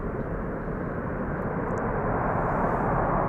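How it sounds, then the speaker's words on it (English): Steady, loud broadband roar of a KLM Airbus A330-300 departing Amsterdam Schiphol in snowy weather, a continuous wash of engine noise that holds level throughout with no voices. "This is KLM flight 623. Airbus A330-300."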